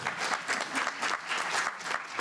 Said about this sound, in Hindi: ऊर्जा भरी तालियां